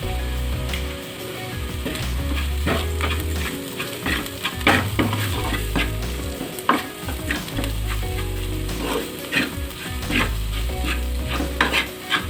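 Ground turmeric, coriander, cumin and chili powder frying in hot oil for a fish dish, with steady sizzling and repeated scraping, stirring strokes of a spoon against the pan throughout, close and fairly loud.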